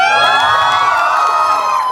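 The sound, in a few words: wedding audience cheering and shouting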